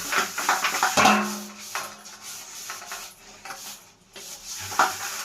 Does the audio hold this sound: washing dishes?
yes